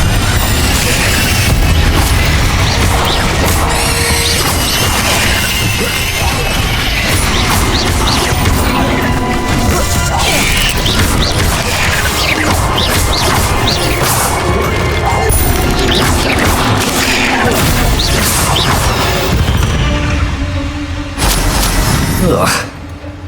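Fire spell effects from Hogwarts Legacy, dense crackling blasts, whooshes and impact crashes packed throughout with almost no pause, loud and close, with a voice talking over the combat.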